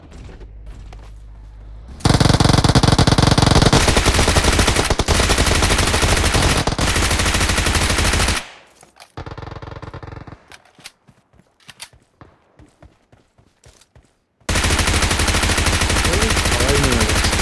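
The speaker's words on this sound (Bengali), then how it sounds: "গুলি চলছিল, কোথায় গুলি চলছিল?" Gunfire in loud, dense stretches of rapid automatic shots that run for several seconds, break into scattered single cracks and short pauses, then resume at full intensity; close and dominant, with voices faintly underneath.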